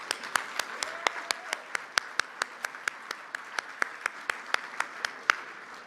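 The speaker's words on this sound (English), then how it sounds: "Please give them another rousing round of applause" Applause at a community annual dinner: a regular series of sharp, separate claps heard at a moderate distance, steady and evenly spaced for several seconds with no speech over them.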